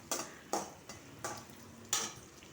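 A tomato mixture frying in a pan before gongura leaves go in, with soft sizzling under a few light scrapes and clinks of a stirring spoon, close and quiet.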